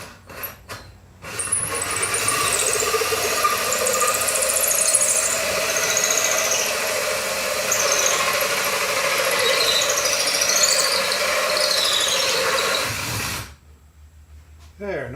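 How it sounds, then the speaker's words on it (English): A power drill runs steadily for about twelve seconds, boring a hole during a shuttle bus RV conversion, with a whining motor and squealing bit close up, then cuts off abruptly. "Okay, I got the backup drill here. So we'll go ahead and do it with this one."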